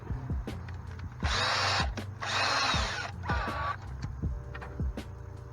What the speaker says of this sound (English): let's see what happens if I just drill it out a little bit bigger